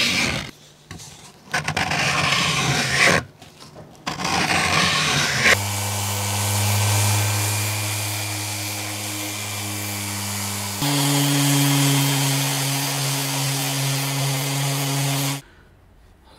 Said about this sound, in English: So the next stage is sanding and scraping and scraping and sanding.